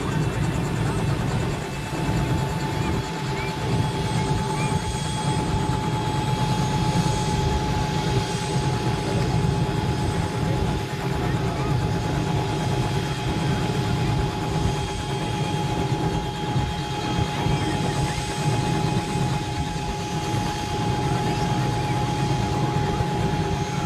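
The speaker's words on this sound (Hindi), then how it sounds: "अब आप देख सकते हैं कि अगले कुछ ही पल में सेकेंड टाइम हेलीकॉप्टर लैंड हो गया है" A helicopter landing at a wedding in Barmer, with a loud continuous engine and rotor roar that holds steady throughout, close by and dominating, with faint crowd noise underneath.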